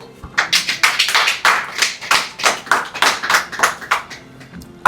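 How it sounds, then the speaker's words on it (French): Guests at a wedding ceremony clap loudly and steadily for the couple, a close, dense burst of hand claps with a rhythmic, pulsing rise and fall lasting several seconds, with no talking. "Sur ce, acclamez pour ce couple."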